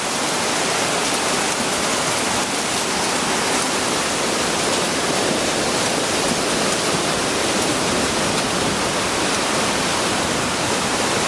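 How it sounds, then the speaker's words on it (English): Loud, steady roar of rushing floodwater in a creek during an April storm in Austin, Texas, a dense unbroken wash of noise that fills the whole clip with no voices. "You can hear the roar of that water."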